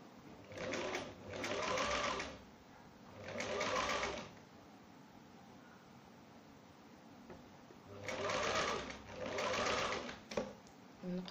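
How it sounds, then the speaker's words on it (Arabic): A sewing machine stitches fabric for a light summer robe, running in four short, even bursts of rapid whirring separated by quiet pauses, close and clear with no talking. "نخيط في هاد الجهة"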